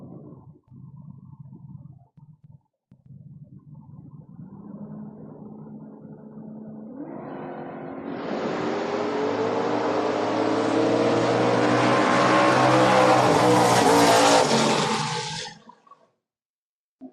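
Drag race launch at a door-wars event, a Mustang and a Malibu leaving the line: a low engine rumble builds into a loud, broad roar that holds for several seconds and then cuts off, with no talk.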